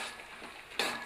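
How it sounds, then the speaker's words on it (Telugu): Roasted, skinned peanuts being stirred in a pan for peanut chikki, a soft scraping rustle that swells into a louder sizzling stir near the end. "ఇవన్నీ వేసి ఇట్లా తిప్పుతూ ఉండాలి"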